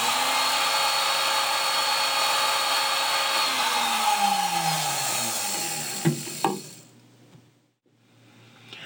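A flexible shaft rotary machine runs with a loud, steady whirring hum. Its pitch slides downward as the motor spins down around six seconds, leaving a few knocks and quiet room noise.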